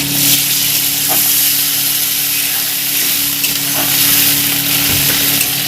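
Amra chutney frying in a pan with a little water added, giving a steady, close sizzle and bubbling hiss with faint clinks of a utensil.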